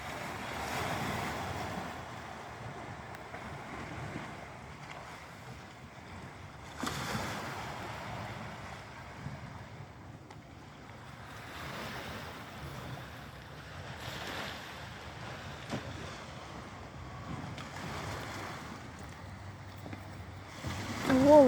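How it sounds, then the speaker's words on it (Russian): Sea waves at night along a Cyprus seafront, surf rolling in repeatedly at a moderate distance with steady wind noise on the microphone and no talk over it. "Волны прям слышатся, но их не видно"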